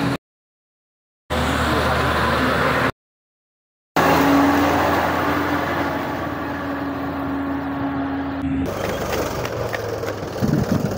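A 35 HP Mahindra tractor hauling a heavy load of around 40 tons gives a steady, gritty engine drone with a rough, grinding texture, cut by two gaps of silence before running on loud and continuous.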